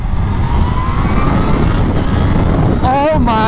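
A supercharged Kawasaki ZH2 motorcycle engine over-revs, roaring steadily with rushing wind noise, its pitch climbing in a rising whine near the end before dropping away.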